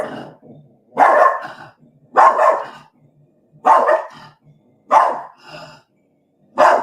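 A dog barks repeatedly indoors, five loud, fairly evenly spaced barks with short quieter yelps and huffs between them, close to the microphone.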